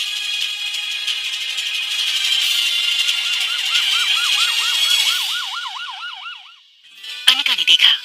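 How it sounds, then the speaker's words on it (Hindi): A loud ambulance siren wails close by, its warbling tone sweeping up and down before fading out, then a brief harsh burst of siren returns at the end. "गौतम ने हड़बड़ी में फोन करके एम्बुलेंस को बुला लिया था।"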